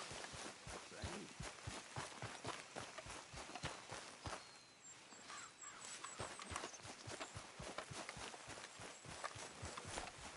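Horse hooves clip-clopping at a steady walking pace in Red Dead Redemption 2, crisp regular hoofbeats close by, briefly easing midway before resuming, with faint bird calls in the background.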